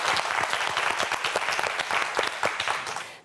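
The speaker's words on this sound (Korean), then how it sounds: "자, 여러분 큰 박수 부탁드립니다." Studio audience applause on a Korean TV science quiz show, a dense steady wash of many hands clapping, loud and sustained throughout without talk.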